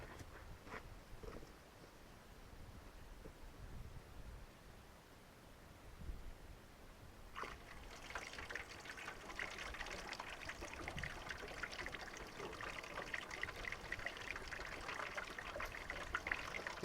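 Water runs from a tap or hose for cleanup after metal detecting, a soft steady trickle that swells into a fuller, louder flow partway through and keeps going without any voices.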